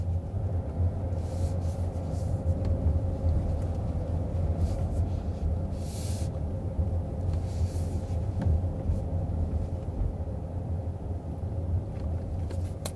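A bus station car park gives off a low, steady traffic rumble, with engine drone close by, occasional faint passing hiss and no talking.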